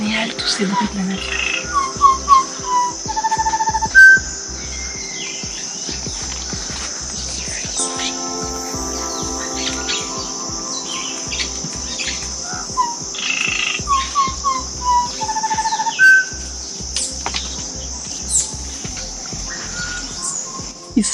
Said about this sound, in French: On entend beaucoup de bruit d'oiseaux tropicaux